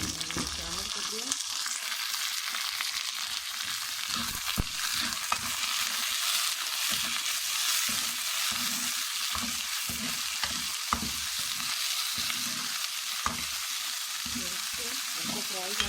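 Kidneys fry in a pan with browned onion, ginger and garlic, giving a steady, close sizzle with occasional scraping stirs throughout, no voices.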